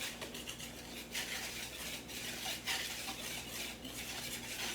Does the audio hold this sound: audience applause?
no